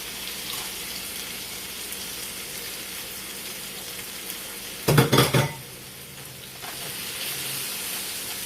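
A 6-ounce bag of baby spinach sizzles in oil in a pan, giving a steady low hiss throughout, broken midway by a short burst of clattering pan and utensil noise.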